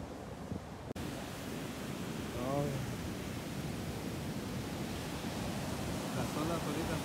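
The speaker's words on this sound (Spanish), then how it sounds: "Las olas ahorita están muy fuertes" Steady roaring surf of strong waves on the beach at Lincoln City, Oregon, a dense continuous wash of noise with wind rumbling against the microphone.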